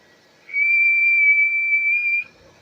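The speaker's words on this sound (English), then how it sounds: "Well, what about a whistle?" A person whistles a single steady, clear tone into a radio microphone, sustained for nearly two seconds at strong level, starting and stopping cleanly against near silence.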